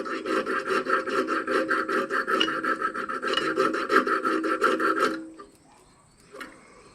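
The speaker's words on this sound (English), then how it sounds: "So I'm going to go ahead and just gently file that down a little bit." A hand file rasps across the end of a cut brake line tube, about five seconds of quick, even back-and-forth strokes, close and loud, then it stops with a faint clink.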